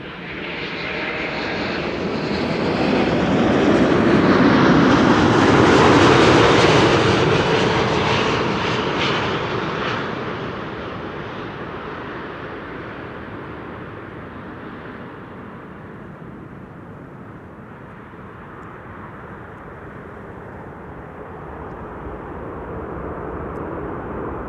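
An IndiGo airliner arriving from Mumbai at Amsterdam Schiphol passes with a broad roaring engine rush that swells to a peak, then fades into a steady distant rumble.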